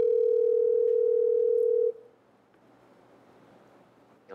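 Telephone tone heard while placing a phone call: a single steady electronic tone holds loud for about two seconds, then cuts off, leaving a quiet line with faint background noise.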